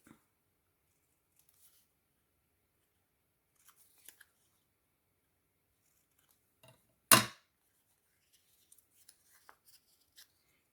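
One crisp snip of scissors cutting paper on the bias rises out of a quiet room, with a few soft paper rustles and tiny taps scattered before and after.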